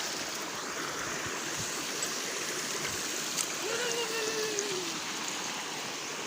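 A village waterfall and stream flowing outdoors, a continuous broad rushing wash of water, steady and moderately loud, with faint birdlike whistles over it and no clear speech.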